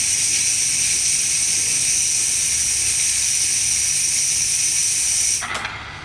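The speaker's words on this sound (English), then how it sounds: "rotate the knob in steam position and release for a few seconds" Steam hisses steadily from the steam wand of a Gevi espresso machine, a loud continuous broadband rush that holds for about five seconds before the knob is closed and it cuts off with a short sputter.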